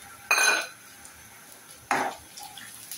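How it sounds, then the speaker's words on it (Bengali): Frozen ginger-garlic paste and tomato paste being stirred in a pan, two loud clattering scrapes of a utensil against metal, the first around a third of a second in and the second near two seconds, with quiet frying in the gaps. "একটু নেড়ে ছেড়ে নিব।"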